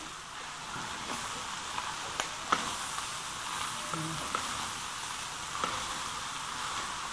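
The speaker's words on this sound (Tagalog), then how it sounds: "Kaya kailangan po haluin po nyo sa kawali." Chopped pork offal for bopis sizzles steadily in a pan while it is stirred, a continuous frying hiss broken by occasional scrapes and knocks of the spoon.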